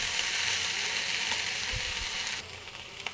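Potatoes and fish roe frying in a pan in their own released water with no added liquid, producing a steady close sizzle that softens slightly near the end, with no talking.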